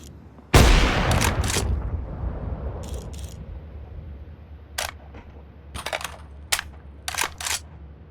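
Gunfire in the video game CS2 on the Nuke map: one loud, close shot burst with a long decaying tail, followed by several fainter, sharper shots and clicks trailing off further away.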